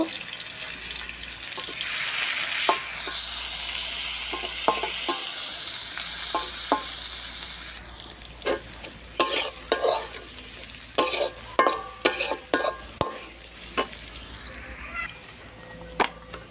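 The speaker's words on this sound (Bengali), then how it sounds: "পেঁয়াজটা ভালোভাবে ভেজে নিব।" Onions sizzle steadily in a hot pan, then the hiss gives way to repeated scraping and clinking as a spoon stirs them.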